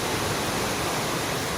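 Cachoeira da Usina waterfall in Itacaré, Bahia, roaring as a dense, steady rush of falling water, loud and close with no breaks.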